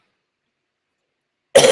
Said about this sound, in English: Looks like I'm going to have this cough throughout our entire winter term.